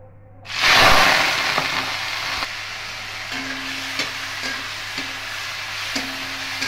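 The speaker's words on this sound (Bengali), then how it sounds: "এবার পেঁয়াজ আর লঙ্কা আর ডিমটা ভেজে নেব।" Onion and chili hit hot oil with an egg and burst into a loud sizzle that settles into a steady frying hiss, with a few light stirring clicks and knocks in the pan.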